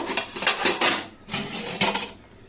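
Metal clatters and scrapes as a lid goes onto a pan of boondi soaked in lukewarm milk, two bursts of clanking contact separated by a brief pause, close and fairly loud.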